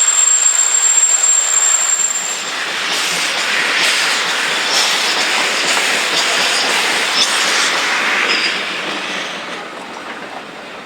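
Train hauled by locomotive number 2978 pulling away on a European line after its electric loco is detached, a loud steady rolling rumble and wheel noise that swells, then eases slightly as it moves off.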